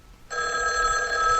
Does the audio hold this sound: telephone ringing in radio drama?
yes